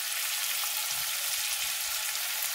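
Onion frying in pork fat in a pan: a continuous, even crackling sizzle, close and alone, with no talk.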